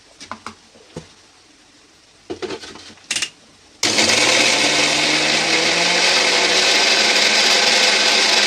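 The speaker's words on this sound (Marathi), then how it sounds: "मिरच्या आपल्याला मिक्सरमधून बारीक करून घ्यायच्या आहेत." A mixer grinder grinds green chillies: a few light clicks and knocks, then the motor starts with a loud, steady, close whirring roar that runs unbroken to the end.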